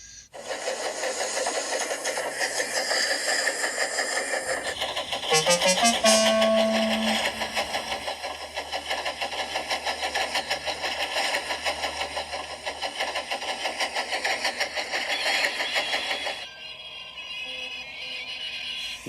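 A steam locomotive effect for an audio drama: a loud, continuous engine rumble that surges midway with a brief rising tone, then settles into a steady running drone with no voices.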